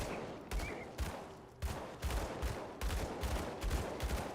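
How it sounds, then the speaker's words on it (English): Gunfire in the action RPG Grim Dawn, a run of punchy shots spaced roughly every half second, loud and close, repeating steadily. "I'm shooting through a rock."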